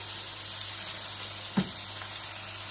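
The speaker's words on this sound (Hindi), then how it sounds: "और इसको जो है वो मैं 1 मिनट के लिए जो है वो अपने ऑनियन के साथ जो है इसको फ्राई कर लूँगी" Ginger garlic paste fries with onions in a pan, a soft, steady sizzle close by with one brief clink partway through.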